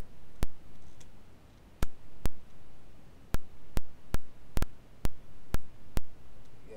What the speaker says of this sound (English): You guys hear a lot of clicking, right?